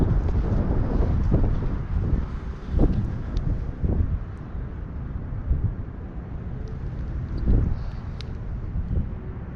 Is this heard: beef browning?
no